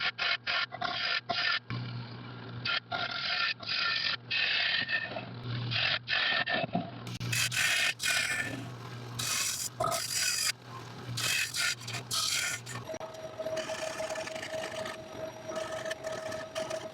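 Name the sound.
hand sanding wooden bowl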